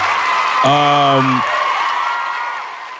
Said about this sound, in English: Let's get some claps.